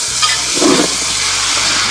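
Collard greens being stirred into a hot pot with a little water, giving a steady close sizzle and hiss with a brief soft stirring rustle partway through, no talking.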